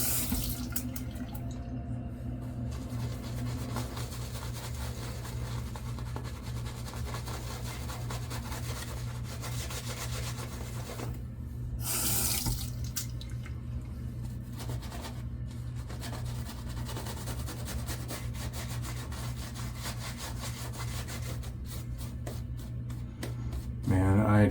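A tap runs water into a sink with a continuous hiss and splash, close and steady, while intermittent brush-rubbing scrapes of shaving soap paste mix in throughout.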